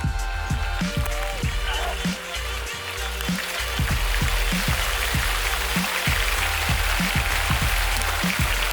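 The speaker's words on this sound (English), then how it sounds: "Gosh, it's raining, stop raining!" Steady rain falls throughout, a dense hiss of drops with a regular low thumping rhythm running beneath it.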